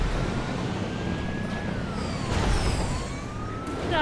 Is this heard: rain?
no